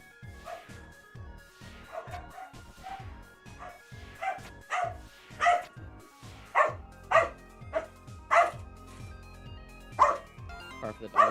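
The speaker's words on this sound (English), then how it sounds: "Sorry for the dog in the background." A dog barking repeatedly in the background, a run of sharp barks and yips growing louder and more regular, heard alone without talk.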